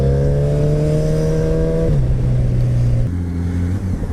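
A Honda Goldwing F6B six-cylinder motorcycle accelerating hard through the gears, its loud, smooth engine note rising in pitch, dropping at each upshift, then climbing again, heard close from the bike itself with no talk.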